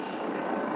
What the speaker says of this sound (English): This fucking helicopter is really upsetting me.